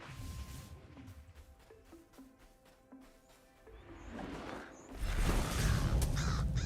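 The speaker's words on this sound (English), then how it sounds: "Wait, are these hunting birds?" Birds in the video game Ashes of Creation give a series of harsh, crow-like caws at a moderate distance, mixed with game ambience that swells into a louder rushing wash near the end.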